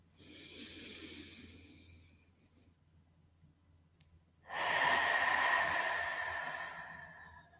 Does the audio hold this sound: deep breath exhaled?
yes